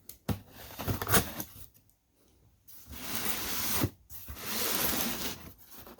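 Cardboard rubbing and scraping as the box of a Bosch PS21-2A 12V drill is opened, in bursts with a brief quiet pause midway, close by.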